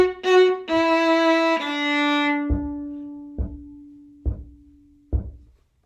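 Solo viola playing measure 41 of Entry of the Tumblers in a lesson setting: a few sustained bowed notes followed by four short, evenly spaced detached notes with bow lifts, close and clear with no talking.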